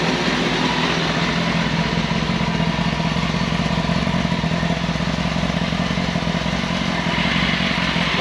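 A Kawasaki Ninja ZX6R with its stock exhaust idles close by, a steady, loud, even engine drone with a fine rapid pulse that holds constant throughout.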